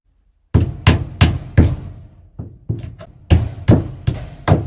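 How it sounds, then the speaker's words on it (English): Sharp hammer blows strike in quick rhythmic bursts, loud and close, while hanging wire rabbit cages, with a short pause of lighter knocks midway before another steady run of hits. "When I'm using a hammer"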